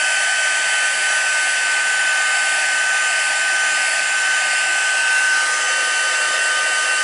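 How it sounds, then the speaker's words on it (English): A heat tool blows steadily to melt embossing powder on a stamped card, a continuous even whoosh of hot air close by with a faint whine, unbroken and alone for several seconds. "I'm going to take my heat tool."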